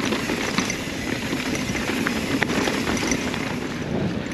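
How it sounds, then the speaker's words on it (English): Steady, loud wind buffets the microphone throughout, a broadband rushing roar while mountain biking on a trail in the Irish Hills near San Luis Obispo, California, with no talking. "a little breezy"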